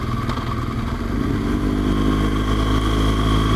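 A BMW R1200GS motorcycle rides up Kirkstone Pass, its boxer engine droning steadily and loudly with constant wind rush, close-miked from the rider's position and no talking.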